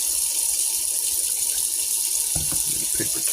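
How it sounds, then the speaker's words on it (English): Water runs steadily from a tap in a continuous hiss, with some clattering and handling noises near the end. "Let me get the water going there."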